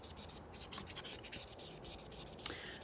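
Studio 71 markers scratch and rub across paper in quick, repetitive strokes, faint and close, with no voice.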